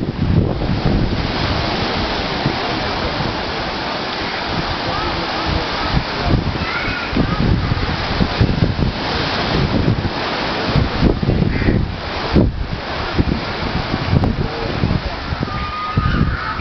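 Sea waves surge onto the shore at the Bandra–Worli Sea Link in Mumbai as a continuous loud roar, with gusts of wind buffeting the microphone throughout.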